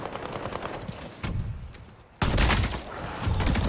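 Bursts of automatic gunfire in the online shooter Highguard, a loud steady fusillade starting mid-clip after quieter rattling shots, with no talk over it.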